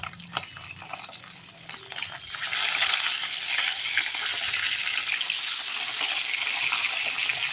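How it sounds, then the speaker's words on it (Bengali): Fish pieces frying in oil in a pan, a crackling sizzle that swells after a couple of seconds and holds steady, close up with a few small clinks and no voices. "এবার মাছগুলো ভেজে নেব।"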